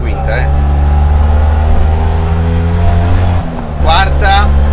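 A vintage Fiat 500 with a tuned 700cc engine and five-speed synchronized gearbox drones loudly and steadily from inside the cabin, with a brief dip as a gear change is made before the engine pulls again.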